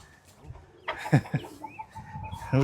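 A rooster clucks and calls in short bursts, fairly close, with a louder squawk at the end.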